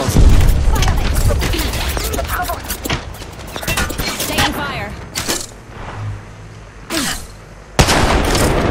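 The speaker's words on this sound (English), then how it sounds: "Box 3, launching missiles." Missile launches and explosions go off in Apex Legends, a dense volley of booms and rapid impacts, then scattered thumps and blasts, with voices talking over the action.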